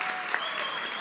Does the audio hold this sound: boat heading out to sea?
no